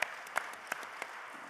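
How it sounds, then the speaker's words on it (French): A short burst of applause from a small audience at a round-table conference, with a few sharper claps standing out over the steady patter. "On peut vous applaudir."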